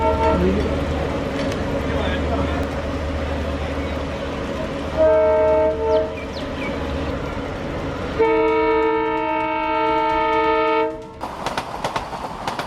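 A moving train rumbles and rattles past at slow speed, with sustained horn blasts sounding in several long tones before the noise drops away.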